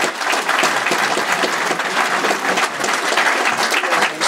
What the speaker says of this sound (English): Stand up, both of you, get some applause